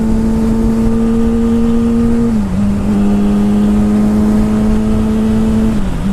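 A Kawasaki Ninja ZX6R motorcycle engine runs loud and close with a steady droning note, dipping briefly in pitch twice as the revs shift, with no talking.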